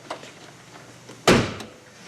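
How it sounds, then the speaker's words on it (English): A car door gives one sharp, loud latch-and-thud, preceded by faint handling noises and followed by a fading rattle and a small click. "Now we're going to lock the door here."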